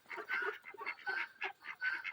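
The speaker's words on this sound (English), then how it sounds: "So over here we have our royal palm turkey." A royal palm turkey on a farm gives a run of rapid nasal honking calls in quick bursts, fairly close and moderately quiet, with no other sounds around it.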